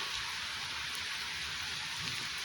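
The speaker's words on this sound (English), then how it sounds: "It's raining." Heavy rain pours down in a dense, unbroken wash of hissing spatter, steady and fairly close, with a few slightly louder drops and no voices over it.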